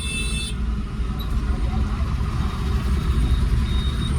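Big lorries rumble along a highway on the Mumbai–Pune route, heard from inside a moving vehicle as a continuous low roar of engines and road noise at an even level throughout.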